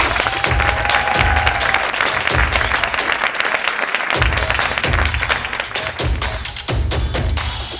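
Audience applause at a comedy stage show in French, dense sustained clapping with rhythmic low thumps beneath, loud and continuous throughout.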